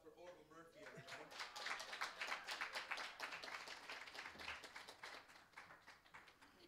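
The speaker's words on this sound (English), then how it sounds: "around applause for Orville Murphy, everybody" An audience applauds a guitar player at a live stage gathering, a dense stretch of clapping that swells and then gradually thins out.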